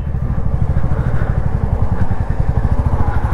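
A motorcycle on the road, its engine a loud, close, pulsing low drone that runs steadily throughout.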